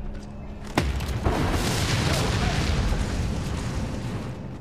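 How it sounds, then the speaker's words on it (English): A deep boom from an explosion in the Mad Max video game, hitting suddenly and then rolling into a long, loud rumbling roar that slowly fades. "I wasn't exactly sure if that explosion was going to reach far enough for the transfer tank"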